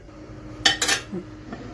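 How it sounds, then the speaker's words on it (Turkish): Dry bulgur poured from a container into a bowl in a home kitchen while making kısır, giving a couple of short, close rattling pours with faint clinks against the bowl and no talk. "ben bulgurumu bu kaseye boşalttım"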